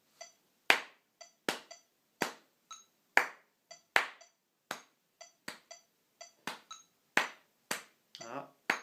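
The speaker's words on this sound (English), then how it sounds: "Let me clap it at 120." Bare hands clap a clave rhythm at 120 beats per minute during a didgeridoo lesson: crisp, close, isolated claps in an uneven repeating pattern, some louder than others, heard alone in a quiet room.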